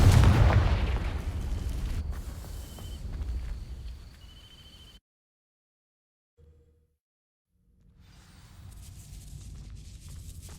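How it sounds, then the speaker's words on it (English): A Confringo fire spell blast in Hogwarts Legacy sets dry vines alight, a loud booming burst at the start that fades into rumbling crackle, then silence before quiet ambience returns. "These dry vines are one spark away from becoming kindling. Confringo!"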